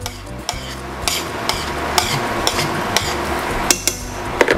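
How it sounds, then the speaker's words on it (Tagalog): Linguine pasta being stirred in a pan with hoisin sauce: a soft sizzle under repeated sharp clinks and scrapes of a utensil against the pan, coming about once a second, close and fairly loud. "haluin lang natin ulit"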